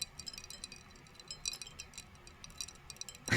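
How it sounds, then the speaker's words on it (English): A glass straw stirs iced coffee in a glass cup, making quick, delicate clinks and ticks up close at a quiet level, with no voices. "Don't mind me just stirring my iced coffee because like some of it has settled in the bottom."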